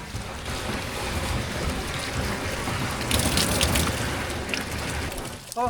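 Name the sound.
stream water being poured into a water tank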